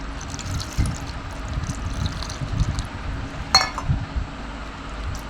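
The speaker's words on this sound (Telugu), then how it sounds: "చేప ముక్కలు కలిపెట్టుకున్నాం కదా ఇందులోనే చింతపండు రసం తీసుకున్నానండి ఇది కూడా వేసేసుకున్నాం" Tamarind juice is poured over fish pieces for a Telugu fish curry, giving a soft liquid splash and trickle with a brief sharp clink of a vessel midway, close by, with low clatter underneath and no talk.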